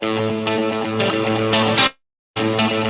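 Electric guitar played through a Universal Audio pedal set to a plate reverb, sustained distorted chords ringing loud and alone before cutting out briefly and returning.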